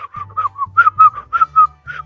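A player whistling while hiding in a hide-and-seek game at an aqua park: a quick run of short, loud, close whistled notes in an irregular tune, with a low hum beneath.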